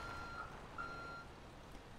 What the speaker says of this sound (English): Let's reverse the truck in.